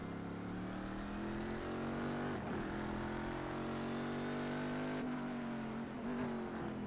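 A race car in the SCAR Sports Car Championship at Daytona short shifts up through the gears, its steady engine note broken by two quick gear changes.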